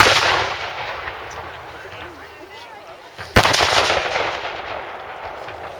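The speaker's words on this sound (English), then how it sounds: "Told you the artillery was loud." Period artillery at a Sealed Knot reenactment lets off one booming blast that stands out over a steady roar of wind and crowd noise, followed by a lingering rumble.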